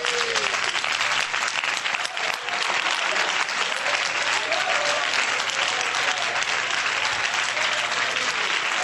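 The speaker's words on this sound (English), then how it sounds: "Give the Lord a good hand clap." A church congregation claps hands in a steady, loud, dense roar of applause that holds evenly without a break, with faint background sound beneath it.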